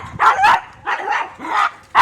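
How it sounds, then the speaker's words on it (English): A dog gives several short, sharp yips and barks close by, in quick bursts separated by brief pauses. "Hello, doggy."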